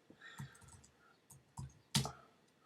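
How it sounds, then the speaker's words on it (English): Quiet clicks and taps from typing on a computer keyboard come in a few sparse bursts, ending in one sharper, louder click. "If I type in Google Ads Manager"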